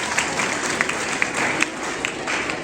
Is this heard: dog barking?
no